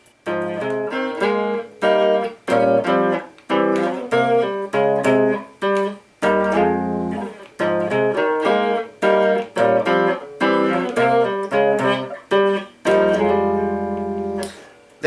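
A tune played slowly on a keyboard with both hands, full sustained chords in a steady, deliberate rhythm, each chord struck clearly and ringing out, close and loud with no voices.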